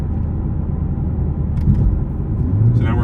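Toyota A90 Supra's B58 engine pulling hard under acceleration in sport mode with traction control off, a loud, steady low rumble from inside the cabin that swells slightly near the end.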